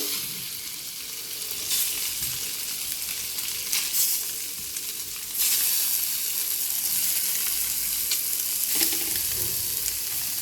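Fish pieces frying in a little oil in an uncovered pan, a steady close sizzle and crackle that runs through the whole stretch, with occasional louder spits and bursts and no talking.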